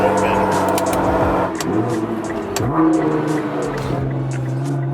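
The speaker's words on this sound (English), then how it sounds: "Brake lights on, cold start" A Nissan GT-R engine starting cold with its exhaust valves open, idling loud and high, with the pitch sweeping up and down in rising and falling revs, close by.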